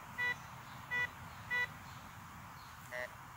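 Four short electronic beeps from an Urceri 1028 metal detector repeat at a steady pace over a constant background hiss, the last one softer and lower in pitch.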